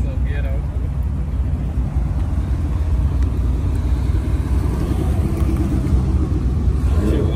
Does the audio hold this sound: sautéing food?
no